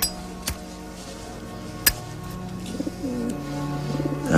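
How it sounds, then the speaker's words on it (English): Pigeons cooing nearby indoors, soft repeated throaty coos rising toward the end, with a couple of sharp clinks early on and no talking. "Sorry about the pigeons."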